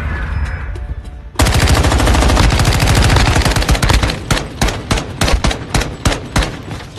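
Sustained machine gun fire in a video game rattles loud and close for several seconds, then breaks into shorter bursts and single shots near the end.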